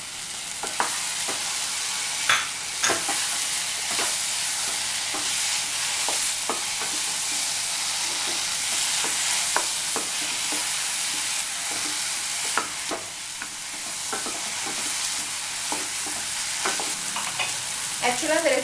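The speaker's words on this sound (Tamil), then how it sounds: "இப்போ இதில் வந்து நான் மஷ்ரூம் வந்து ஆட் பண்ண போகிறேன்." Chopped mushrooms for a mushroom masala frying in a pan, a loud, steady sizzle running throughout, broken by frequent scraping strokes and knocks as a spatula stirs them, close and with no talking.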